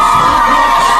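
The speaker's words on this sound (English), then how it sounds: "we get to see a sea of Caucasian women shrieking and going crazy for their role model" A large concert crowd of women shrieking and cheering for a female drill rapper, a loud, dense, continuous roar of high-pitched screams and whoops.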